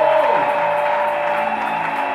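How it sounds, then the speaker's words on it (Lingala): Church congregation applauds and cheers during a service, a steady wash of clapping and voices filling the room at moderate loudness throughout, with a sustained tone underneath. "Acclamons fort pour l'éternel."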